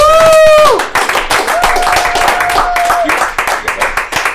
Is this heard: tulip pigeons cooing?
no